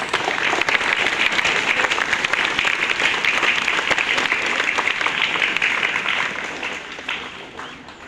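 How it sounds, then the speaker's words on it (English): Crowd of students applauding a class presentation at a school assembly for World No Tobacco Day, dense loud continuous clapping that holds steady for several seconds, then gradually tapers off. "Please give a round of applause to Class 10B."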